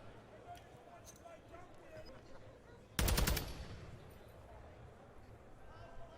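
Sudden burst of rapid automatic gunfire in a Call of Duty esports match, a loud dense rattle that decays into echoing tails over quieter game ambience.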